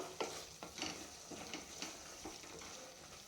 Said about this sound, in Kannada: ಹಾಕ್ಕೊಂಡು ನೀಟಾಗಿ ಮಸಾಲೆಯನ್ನು ಇನ್ನೊಂದು 30 ಸೆಕೆಂಡ್ಗಳ ಕಾಲ ನಾವು ಫ್ರೈ ಮಾಡ್ಕೊಬೇಕು